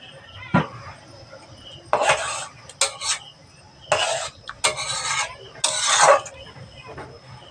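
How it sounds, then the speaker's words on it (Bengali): Metal clanks and scrapes as a lid is set onto a cooking pot of okra and water to steam it, several sharp clatters close by, with no talking. "এবার আমি চাপা দিয়ে দেবো, চাপা দিয়ে সেদ্ধ করে নেব।"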